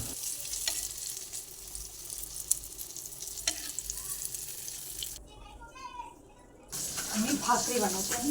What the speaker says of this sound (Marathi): दोन चार मिरच्या मीठ घालून तळते